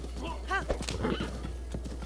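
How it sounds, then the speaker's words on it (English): A horse in the video game Breath of the Wild clip-clops at a gallop and lets out a bright, rising neigh, clear over faint background music with light talk mixed in. "Such a good horse."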